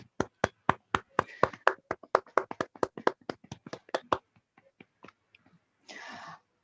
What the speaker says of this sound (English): Let's welcome with a huge round of applause our Toastmaster of the day